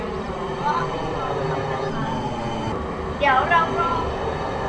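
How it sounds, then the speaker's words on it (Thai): Train departing a station in the Roblox game Livetopia, a steady rolling rumble with a brief whistle-like tone near the end, heard under continuous talking. "เดี๋ยวรถไฟจะ ขับวนออกไปแล้ว"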